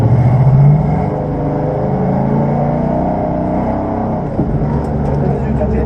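Ford Mustang engine during drifting, a loud, continuous, throaty rumble with a brief rev at the start, as a voice speaks over it.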